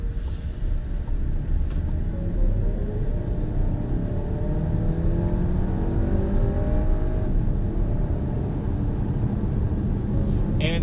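A 2017 VW Golf Alltrack wagon with a DSG gearbox, driven on the road: loud, continuous cabin rumble of engine and tyre noise holding steady throughout.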